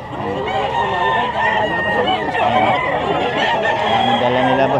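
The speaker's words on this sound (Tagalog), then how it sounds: "Ang daming manok" Many chickens, including fighting cocks, cluck and squawk together in a dense, busy chorus at an animal market in Bocaue, close and continuous, with people talking underneath.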